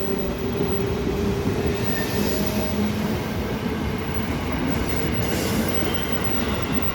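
Indonesian Commuter Line train pulling away from a station between Bogor and Juanda, a loud, steady rumble of wheels on rails with a faint metallic squeal running throughout.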